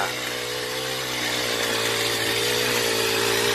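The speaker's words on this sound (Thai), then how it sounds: "ดัดแปลง รถตัดหญ้า" A lawn mower engine converted into a soil digger runs close by with a steady, loud, droning roar at constant speed, with no voices.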